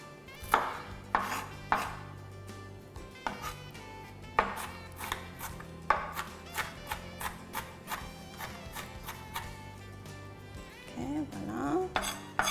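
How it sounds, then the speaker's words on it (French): Half an onion is chopped finely with a knife, giving sharp, irregular taps and clicks on a board. The cuts sound fairly faint over steady background music. "il faut vraiment les hacher finement"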